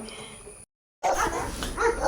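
Dogs bark and yip close by after a brief silence, several animals overlapping in a busy, noisy space.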